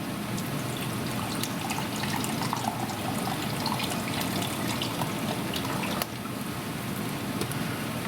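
A cup of beef broth is poured into a browned shepherd's pie meat mixture, making a steady, continuous liquid splash and trickle that lasts several seconds without talking.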